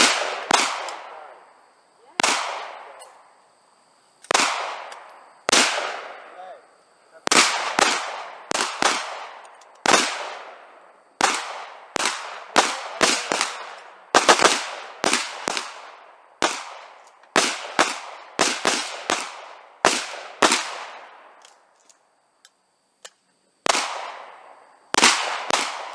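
Handgun shots, including from a Glock 30, ring out on a boat: about two dozen loud, sharp reports with echoing decay, fired singly and in quick clusters with short pauses between.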